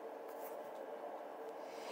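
Sacred Earth Oracle cards being shuffled make a faint, steady papery rustle with no talking.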